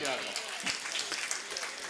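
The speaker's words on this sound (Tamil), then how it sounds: "மிகப்பெரிய கைத்தட்டில் கொடுத்தே ஆகணும்" An audience at a Pongal event applauds in a dense, even wash of clapping that fills the short moment, with a voice also present.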